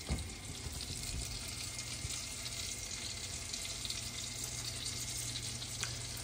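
Lobster, steak and a garlic clove sizzle steadily in a hot pan, a constant close hissing fry with faint occasional spits and clinks, no voices.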